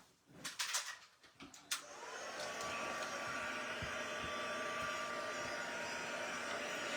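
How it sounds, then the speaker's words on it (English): A heat gun is handled with a few clicks and bumps, then switches on into a steady, close blowing whir with a constant hum that keeps running to the end. "let's get the old heat gun out"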